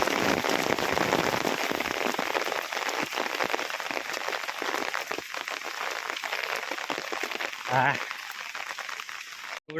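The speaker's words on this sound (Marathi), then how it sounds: "पाऊस पडतोय" Steady rain falls outdoors beside onion fields along a village road in Konkan, a dense continuous hiss of drops on surfaces that stays loud and even throughout.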